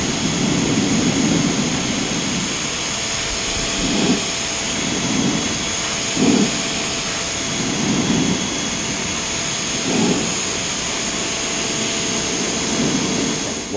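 Sun Joe pressure washer spraying a diving board, a steady loud hissing roar with the motor droning underneath and periodic swells as the spray sweeps across the surface.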